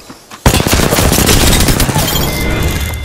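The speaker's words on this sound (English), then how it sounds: "I shot at an enemy" Automatic weapon fire in Apex Legends, loud sustained bursts of rapid shots that start suddenly and run dense and continuous, with a clattering tail.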